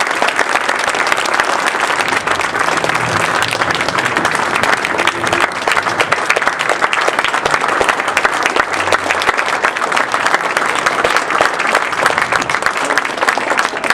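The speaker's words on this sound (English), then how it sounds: "We got to give him a big round of applause." A large audience gives a long, loud round of applause for a retiring Boy Scout troop scoutmaster, dense continuous clapping that holds steady for many seconds with no talk over it.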